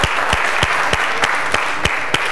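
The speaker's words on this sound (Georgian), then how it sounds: "აპლოდისმენტები" A quiz show audience applauds steadily at close range, with dense hand claps and a few sharper, louder claps standing out at regular intervals. There is no talk over it.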